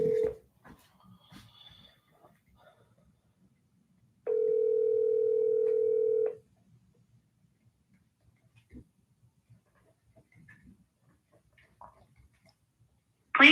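An outgoing phone call produces a single steady ringback tone lasting about two seconds, loud and clean amid near silence with faint clicks and tapping before and after.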